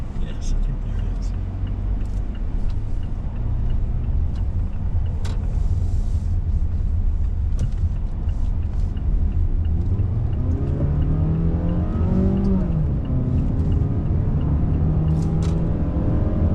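A car climbing a mountain forest road, steady low engine rumble throughout with a rising whir as it gains speed near the end, close and continuous, with a person talking over it.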